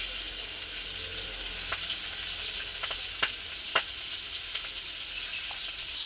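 Fish sizzles steadily in hot oil, with sharp crackling pops breaking through the hiss every second or so, close and fairly loud.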